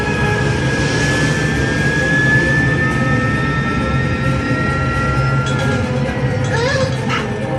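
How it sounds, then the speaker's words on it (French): Antonov jet engines roar loudly and continuously during takeoff, a dense nearby rumble with rising whining tones running through it. "Antonov, interrompez le décollage! Vous n'avez reçu aucune autorisation!"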